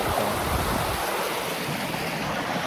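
Rushing mountain river in the Écrins that must be crossed on a hiking trip, a loud continuous roar of churning water heard close up, with no voices.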